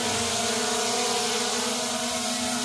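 A small camera drone touches down outdoors, its propellers giving a steady, loud, even whine with strong tonal bands that holds unchanged throughout, with no voices.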